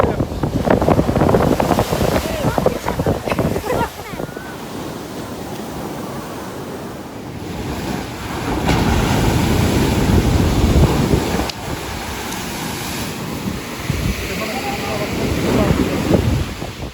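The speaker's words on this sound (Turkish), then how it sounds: "Çok fena dalga var." Sea waves surge and crash along the shore at Kaş, a broad roaring wash that swells and recedes over and over, heavily buffeted by wind on the microphone, with brief talk early on.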